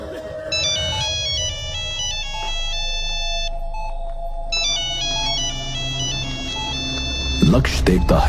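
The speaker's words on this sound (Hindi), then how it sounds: "फोन लगातार रिंग हो रहा है।" A telephone ringtone rings continuously and loudly in a hospital, its repeating melodic tones cycling over a low background hum before a burst of noise at the end.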